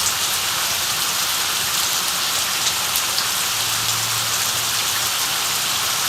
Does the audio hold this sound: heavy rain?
yes